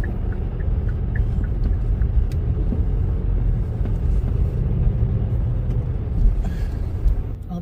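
Car engine and road noise from inside a moving car on the way to get gas, a steady low rumble that stays constant throughout with faint small knocks above it.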